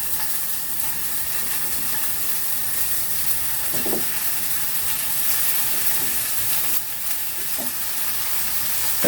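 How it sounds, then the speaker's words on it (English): Meatballs sizzling in a frying pan, a steady broad hiss running throughout with a few faint clicks and small pops, and no talking. "So let's put our meatballs into the frying pan."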